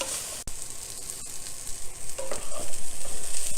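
Vegetables for a coconut primavera penne, including broccoli, are tossed in a hot pan, with a steady loud sizzle and frying hiss, scraping and stirring clatter building toward the end, no voices.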